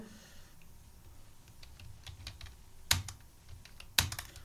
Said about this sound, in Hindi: उसके बाद एंटर एंटर प्रेस करना है